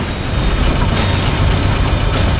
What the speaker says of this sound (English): Oh, the explosion, the gunfire, the carnage